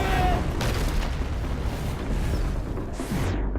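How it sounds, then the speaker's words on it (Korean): A nuclear power plant explosion in the disaster film Pandora, a loud deep booming rumble that rolls on, then a whooshing blast sweeps up near the end. "발전소 본부의 승인을 기다리다 결국 발전소가 폭발하는 이 장면"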